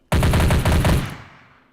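A rapid burst of automatic gunfire from the video game Unturned, about five quick close shots over one second, with a crisp high-pitched click edge on each and a short fading tail.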